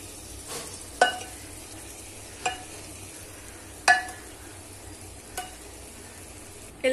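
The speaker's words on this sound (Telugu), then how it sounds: "ముందుగా మనము బాయిల్ చేసి పెట్టుకున్న రైస్ ని వేసేసుకుందాం దీంట్లో" Boiled rice is stirred into egg biryani masala in a pot, with a soft sizzle under several sharp scrapes and clinks of a spoon against the pan at irregular intervals.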